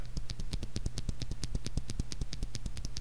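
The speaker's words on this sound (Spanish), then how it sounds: "Este es el sonido de un Switch Black con aceite." Black mechanical keyboard switch lubricated with cooking oil, pressed over and over in a fast, steady run of sharp, close clicks and clacks.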